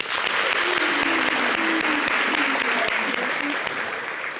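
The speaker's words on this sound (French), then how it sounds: "Mathé, merci de l'applaudir." Steady, dense applause from an audience, loud and continuous for several seconds, slowly easing toward the end.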